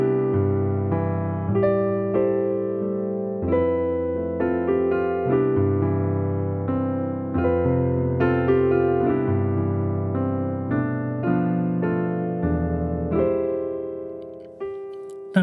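Solo piano plays a melody plainly over simple sustained chords, at an unhurried, steady pace, close and clear, with no voices for about fifteen seconds.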